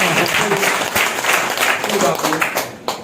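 A crowd applauds loudly at a DXN company gathering, a rough, fluctuating clatter of hands that fades near the end, with a voice speaking over the clapping.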